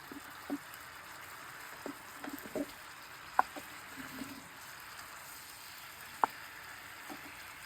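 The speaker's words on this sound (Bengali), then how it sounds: "তো এখন এটাকে সুন্দর করে কষাচ্ছি।" Chili chicken sautéing in a pan gives a quiet, steady sizzle, broken by scattered soft pops and clicks of stirring, heard close and alone without any talk.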